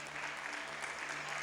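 Congregation applauding during a church service, a steady wash of many hands clapping at once, soft and somewhat distant, continuous for the whole moment with no voice on top.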